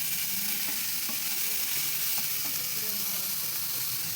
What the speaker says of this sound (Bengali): এবার বাঁধাকপি দিয়ে দিয়েছি, এইটা দিয়ে ভালো করে কষিয়ে পুর করে নেব